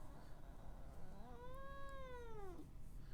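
A cat gives a single drawn-out meow that rises and falls, lasting about a second, close by over a quiet room background.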